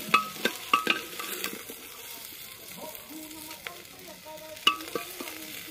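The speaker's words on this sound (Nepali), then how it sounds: "अलिकति भुटेर निकाल्दै न" Sukuti, Nepali dried meat, fries in a pan with a steady sizzle while a utensil scrapes and stirs, several sharp clanks against the pan punctuating the crackling.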